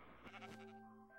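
Sheep bleating in the Minecraft video game, a single wavering bleat lasting about a second, close and clear with no talk over it.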